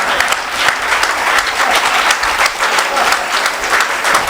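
A large crowd at a religious inauguration ceremony claps continuously and evenly, a dense, loud burst of applause with no voices over it.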